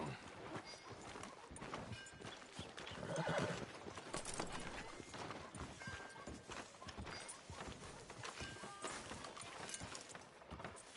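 A horse whinnies in Red Dead Redemption II amid steady clip-clopping hooves and busy background game ambience, the neigh standing out briefly near the middle.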